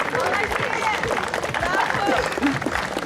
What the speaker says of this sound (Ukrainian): Наші овації, будь ласка